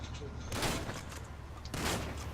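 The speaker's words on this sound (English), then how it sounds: "Why are you shooting?" Gunfire in Grand Theft Auto V, two loud bursts of shots roughly a second apart over a busy, noisy game background.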